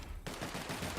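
Rapid burst of gunfire in The Outer Worlds, starting abruptly after a brief quiet moment and continuing as a steady, loud rattle of repeated shots through the rest of the second.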